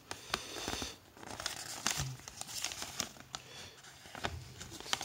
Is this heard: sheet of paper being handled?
yes